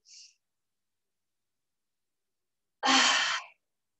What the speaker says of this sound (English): Big breath in,